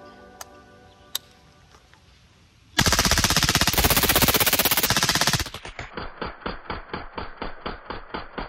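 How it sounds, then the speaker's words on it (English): Faxon Firearms ION-X ultralight AR-15 rifle firing full auto: a loud, dense burst of rapid shots lasting about two and a half seconds, then a fading run of rhythmic ticking echoes. A few isolated clicks come before the burst. "this is the Faxon Firearms ION-X ultralight rifle in full auto"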